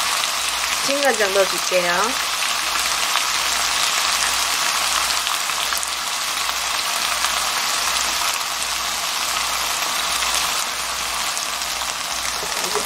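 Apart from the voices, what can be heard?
hijiki and konjac being stir-fried in a pan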